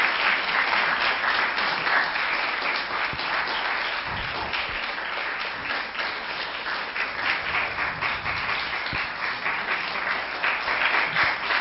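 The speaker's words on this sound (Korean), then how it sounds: "입장하실 때 큰 박수로 환영의 박수 보내주시기 바랍니다" A long, even round of audience applause at a labor ministry forum as the minister walks in, many hands clapping steadily throughout with a faint hint of voices underneath.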